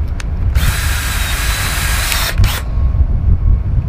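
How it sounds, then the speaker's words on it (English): A power drill whines at high speed, boring a pilot hole in a bass boat for about two seconds, then spins down, leaving a low steady rumble close by. "So what I'm going to do is just pilot drill a hole here."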